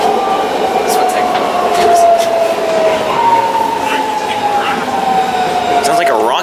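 A BART train pulls out of a station with a steady, rising electric whine and rumble that carries through the whole stretch, wheel and rail noise beneath it, while a voice speaks briefly over it.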